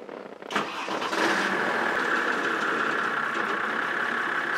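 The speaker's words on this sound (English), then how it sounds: "you're ready to start your engine" A boat engine cranks over and catches, then settles into a steady, loud running drone that continues evenly to the end.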